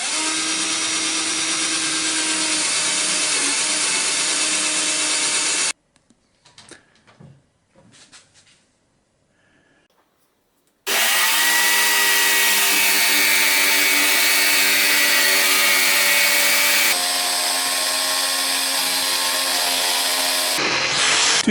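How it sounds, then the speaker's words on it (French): A power drill boring holes through wood for a jigsaw blade while building a toy pond sailboat: two long, loud steady whining runs separated by a quiet pause with faint handling clicks, the second run shifting pitch near its end. "Donc tu vas percer un trou ici et un trou ici, ça va être pour mettre la scie sauteuse."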